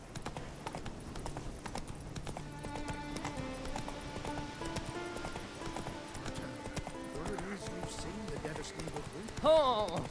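Geralt's horse Roach galloping in The Witcher 3, steady rhythmic hoofbeats running throughout beneath game music, with a brief louder burst near the end.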